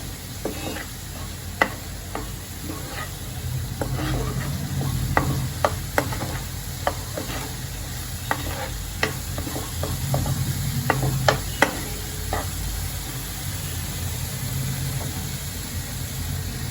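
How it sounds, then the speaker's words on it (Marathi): Garam masala and spices being stirred and sautéed in oil for a village-style spicy prawn curry, a steady low sizzle broken by sharp spoon scrapes and clinks against the pan, with no voices. "गरम मसाला एक चमचा त्या मसाल्यांना चांगला मी तेलामध्ये परतून घेते"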